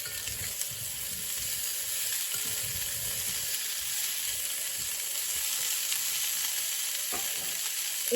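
Olive oil sizzles and fries steadily in a pan while roasted green asparagus is cooked for a pasta dish, with a continuous bright crackle and occasional stirring, close and unbroken, no voices.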